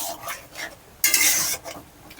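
Spice paste for prawn bhapa is stirred with a little water inside a mixer grinder bowl. Close, short scraping and swishing strokes sound, with one louder, longer swirl midway.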